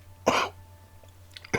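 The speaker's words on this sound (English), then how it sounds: "no, I'm coughing." A person coughs twice, two short harsh bursts close to the microphone with a quiet pause between them, over faint steady background hum.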